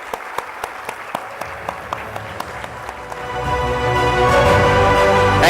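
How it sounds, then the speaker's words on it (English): Loud audience applause at a school annual day celebration, starting with a few sharp claps over a murmuring crowd and swelling after about three seconds into dense, sustained clapping from many people. "let's stand up, please, if you don't mind, and give yourselves a round of applause"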